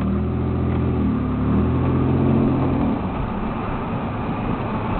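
A pickup truck and a Ford Mustang race on a drag strip, with loud engine revving and acceleration that swells at about two seconds and then settles into a steady rumble as they pull away.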